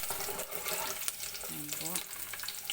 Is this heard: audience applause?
no